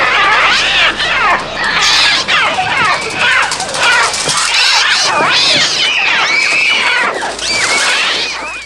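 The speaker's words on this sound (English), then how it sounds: "It's whenever you hear the birds squawking." Birds shrieking and squawking in the 1963 film The Birds, a dense, loud, continuous chorus of harsh overlapping cries with no music underneath.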